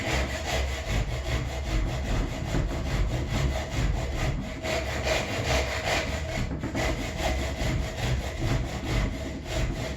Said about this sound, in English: rock back and forth into the top, just to make sure that I'm cutting straight, both directions